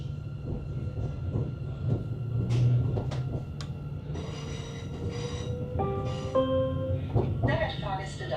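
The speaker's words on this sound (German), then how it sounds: "Genießen wir die Beschleunigung." An electric S-Bahn Hannover commuter train departing Celle rumbles along as rising, whining motor tones climb in pitch while it gathers speed, with clunks and rattles of the carriage.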